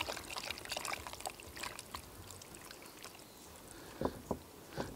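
Water, yeast and olive oil are poured into flour and salt for pizza dough, a faint trickling and splashing with brief louder pours near the end, quiet and close.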